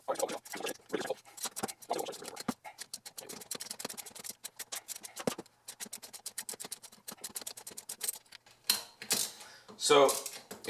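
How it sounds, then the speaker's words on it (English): A stuck, penetrating-oiled bolt on a starter solenoid is worked back and forth, giving rapid irregular metallic clicks and ratcheting taps in bursts, close and fairly sharp, with a brief pause partway through. "I'm just going to work it back and forth and try to slowly try to get it out of there"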